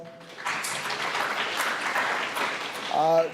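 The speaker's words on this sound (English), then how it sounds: "give her a round of applause" Conference attendees applaud at the closing remarks of a housing and urban development event, a swell of clapping that builds and holds before a speaker's voice cuts back in at the end.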